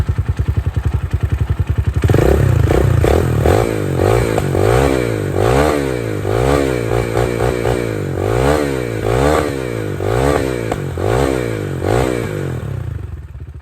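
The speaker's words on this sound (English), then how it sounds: "Now the bike's warmed up, I'll let you hear her a bit." A 10Ten 250cc RX dirt bike engine idles with a rapid putter, then catches louder and revs up and down repeatedly in rising and falling sweeps, close and loud with no talk.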